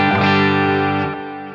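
An electric guitar played through a clean JTM45 amp model with a touch of spring reverb and a greenback-mix cabinet rings out as a single sustained chord that fades after about a second.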